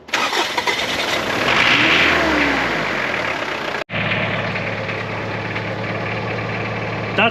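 Mitsubishi Pajero Mk2 with a 2.8 diesel engine running on nearly pure vegetable oil before fully warming up, a close loud clattering revving that drops briefly and then settles into a steady idle rumble.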